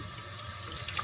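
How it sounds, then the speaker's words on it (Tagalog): Tap water runs steadily into a kitchen sink during dishwashing, a continuous close hiss and splash filling the whole second with no voices. "Hindi po ako naghuhugas ng parehas ng style ng Dutch na paghugas."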